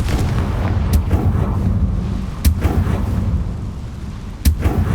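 Confringo spell blasts in Hogwarts Legacy, a dense low rumbling roar broken by a few sharp cracking bursts, loud and close.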